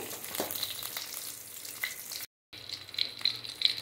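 Cumin seeds and green chillies frying in oil give a quiet crackling sizzle with a few light scrapes. The sound cuts out briefly, then returns with sharp small pops.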